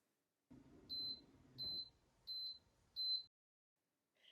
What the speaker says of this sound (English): when this infusion ends, you'll hear a series of beeps that sound like this